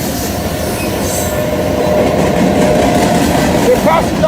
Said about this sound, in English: The train is a very long train. It's carrying cargo.